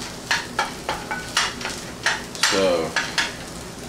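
Onions fry and sizzle in a pan as breakfast cooks, with a steady hiss broken by regular scraping stirs roughly twice a second, close and fairly loud, and a brief word spoken near the start.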